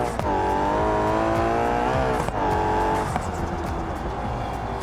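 A loud BeamNG car engine revs and drones with tire squeal and scraping on flat ground, steady and close, with no talking.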